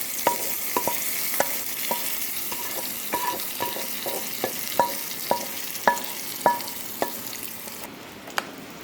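Hot oil tempering poured into a Kerala bitter gourd pachadi (pavakka pachadi) and stirred, with a steady sizzle and crackle under a regular series of sharp spoon clinks against the pot, close and fairly loud.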